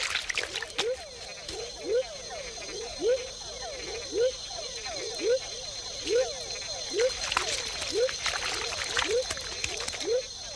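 Tiny frogs in shallow forest pools at the foot of dipteryx trees in Panama give a steady run of short, chirping calls, many repeating roughly every half second, over a faint insect and water hiss.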